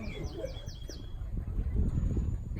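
Small bird chirping at the San Diego Zoo Safari Park, a few quick high tweets early on over steady outdoor crowd murmur and low background noise.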